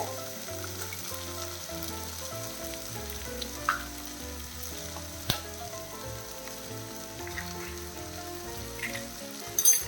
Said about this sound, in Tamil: சேர்த்து நல்லா கிளறிடலாம்